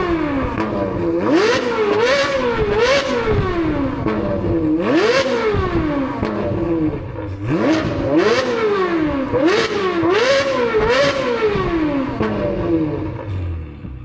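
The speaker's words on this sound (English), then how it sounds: "That's one hell of an exhaust." Ferrari 458 with an aftermarket exhaust revving hard in repeated sweeping bursts, pitch climbing and falling again and again, loud and close throughout with no talking.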